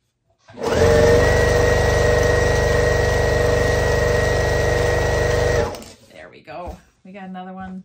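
A sewing machine stitches a handprint quilt block in one steady, loud, close run of about five seconds, then stops and someone speaks briefly.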